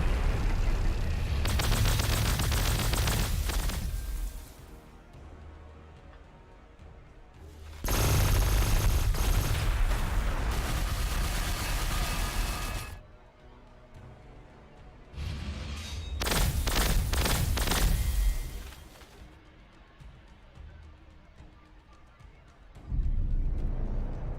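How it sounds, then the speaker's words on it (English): Gunfire rings out in Warhammer 40,000: Gladius in three loud, heavy bursts of shots and booms, with quieter pauses between them and a fourth volley starting at the end. "Lots of shooting."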